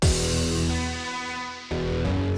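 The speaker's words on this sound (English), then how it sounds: "So we emulate that by getting a crash and a kick, and we've got this like little down riser," Crash cymbal struck together with a kick drum, followed by a short descending down-riser effect, in an electronic drop arrangement; a loud full-band hit sustains and dips, then a second hit lands near the end.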